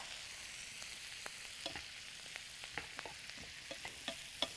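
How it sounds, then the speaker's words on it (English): Brussels sprouts sauté in a hot pan, giving a steady, even sizzle with scattered sharp pops and light clicks of stirring throughout, close and moderately quiet, with no voices. "I'm just going to kind of saute these for just a couple of minutes to soften them and get them a little bit browned up."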